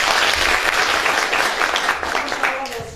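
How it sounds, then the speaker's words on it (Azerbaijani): An audience at a children's talent academy master class in Gadabay breaks into loud, sustained applause for a boy singer, dense clapping filling the room from start to finish. "Bir alqış gəlsin."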